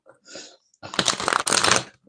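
A deck of playing cards is riffle-shuffled close up: a short soft ruffle, a pause, then a longer dense rapid flutter of cards snapping together.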